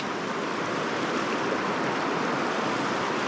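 Creek water flows steadily along the upper Sacramento River near Castle Crags, California. It makes a close, continuous rushing wash with no pauses and no voices.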